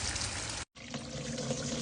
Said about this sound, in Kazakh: Сұйықтығымызды опрыскивательға құйып аламыз.